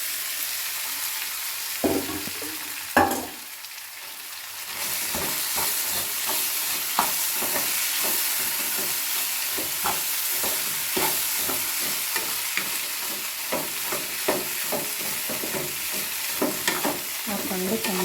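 Poha (flattened rice) being stirred and fried in a pan for upma: a steady sizzle with repeated scraping strokes of a spatula, close and even over the whole stretch, no voices.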